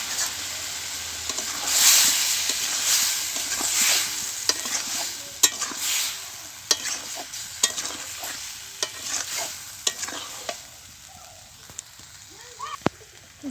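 Small new potatoes dropped into spice paste frying in oil, a loud rushing sizzle at first that settles into a gentle crackle, punctuated by regular sharp clacks of a spoon stirring against the pan.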